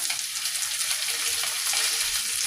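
Square-cut onions sizzle loudly in a hot pan with green chillies for home-style chilli chicken, a dense continuous crackle with faint stirring underneath.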